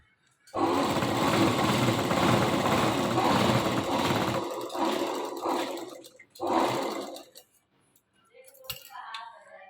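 An electric sewing machine stitches two layers of salwar fabric, running in a steady loud whir for several seconds, then pausing before a second short burst of stitching. Quieter handling sounds follow.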